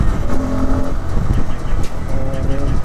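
A Bajaj Pulsar N250 motorcycle engine revs up sharply on the throttle, a loud, close, rising growl lasting about three seconds with brief dips between pulls.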